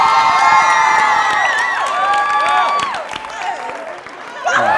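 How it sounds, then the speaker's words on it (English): A conference audience applauding and cheering for a speaker, loud clapping mixed with whoops and shouts over music, dipping briefly before a fresh burst of cheering. "Let's give a warm and roaring round of applause to Ryan"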